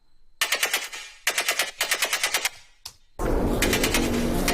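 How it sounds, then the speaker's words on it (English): A high-passed teaser of a dubstep drop stutters in rapid gun-like bursts of bright, thin noise, broken by short gaps, then swells into a fuller sustained wall of sound at the end. "in the intro I've got a kind of a high-passed version of the main drop sound"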